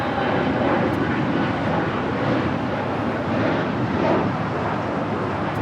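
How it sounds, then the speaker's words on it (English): American Airlines Boeing 787-8 Dreamliner turning while taxiing at LAX gives off a steady, dense engine rumble and whine, moderately loud and unbroken, with no talking. "American Airlines Flight 1959 heading to Miami in the 787-8 Dreamliner, making that turn"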